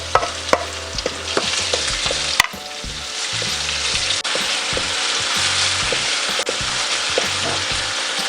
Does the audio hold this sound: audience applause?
no